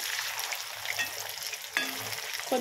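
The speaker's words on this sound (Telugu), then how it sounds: "హీట్ అయిన తర్వాత కొన్ని ముక్కలు తీసుకొని మనం ఈ బాణలో వేసేసుకుందాము." Pieces of taro root going into hot oil in a pan, with a continuous crackling sizzle broken by sharp bursts as each new piece drops in.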